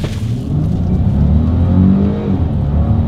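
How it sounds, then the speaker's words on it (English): A 2023 Volkswagen Atlas Cross Sport with a naturally aspirated V6 accelerates hard from a standstill: a loud, steady engine roar that holds and swells throughout, with no voices. "let's see how quickly we can get our new 2023 Atlas Cross Sport here up to speed"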